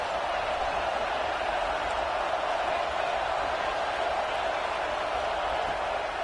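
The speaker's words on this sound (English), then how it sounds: "Decibels rising as the crowd gets behind this defense on third down" A stadium crowd in a college football video game roars steadily behind the home defense on third down, a dense, unbroken wash of noise that holds at an even level throughout.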